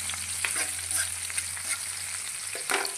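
Onions frying to a reddish brown for a bachalakura (Malabar spinach) tomato curry, a quiet steady sizzle broken by a few light clinks and scrapes of a spoon, no speech.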